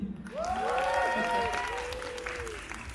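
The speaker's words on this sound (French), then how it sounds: "Pouvez-vous applaudir?" An audience at a geek festival cosplay contest applauds and cheers, with rising whoops and shouted voices over steady clapping.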